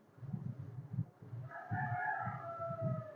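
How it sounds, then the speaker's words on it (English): Roosters crow in the hours before dawn around 3 a.m. A long, rising cock-a-doodle-doo call stands out over repeated low clucking from nearby fowl, heard fairly close and with no talking. "the chickens and the roosters are reminding me that within the next hour or so, the sun is going to come out"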